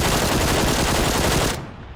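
Rapid automatic gunfire in PUBG, a dense unbroken burst of loud shots running about one and a half seconds before cutting off abruptly into a quieter tail.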